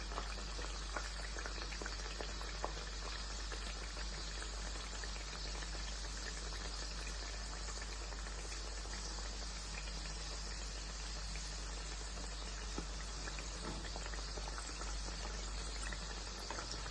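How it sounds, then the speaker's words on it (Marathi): Chandrakala sweets deep-frying in hot oil, giving a steady, dense sizzle and bubbling hiss that runs unbroken and fairly close throughout, with no voices. "छान तेलामध्ये फ्राय करून घ्यायचे"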